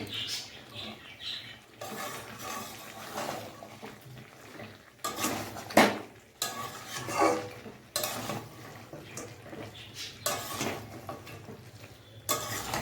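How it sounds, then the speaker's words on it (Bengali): Meat sizzles in hot oil in a pan while a spoon stirs and scrapes against the metal, with intermittent clanks and a steady low frying hiss. "আর মাংসের ভিতর দিয়ে তেল ছাড়ছে।"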